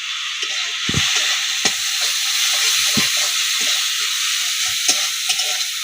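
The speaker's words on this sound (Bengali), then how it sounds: "এই দেখুন ভাজা হয়ে গেল মশলাটা" Spice paste (masala) sizzles and fries steadily in a pan for a dried-fish dish, a continuous close hiss broken by occasional stirring knocks and scrapes, with no voices.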